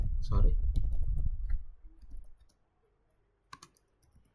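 A handful of separate keystrokes on a computer keyboard enter the mkdir command in a Red Hat Linux terminal. The clicks are short and fairly faint and follow a stretch of talking.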